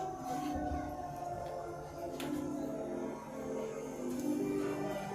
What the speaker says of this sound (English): the siren still hasn't stopped.